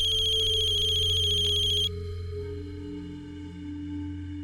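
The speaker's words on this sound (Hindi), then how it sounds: "फोन आ रहा है उसी का।" An electronic phone ringtone chimes in a steady, bright pattern over a soft background music bed in a Hindi TV drama scene, then cuts off abruptly, leaving only the music.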